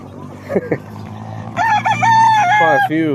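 A rooster crows loudly and close in the Filipino countryside of Bicol, one long drawn-out call after a couple of brief clucks.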